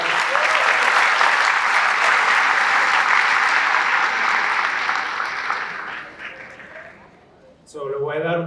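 A large graduation crowd claps steadily for the students, dense and loud, then fades out near the end as a voice begins speaking.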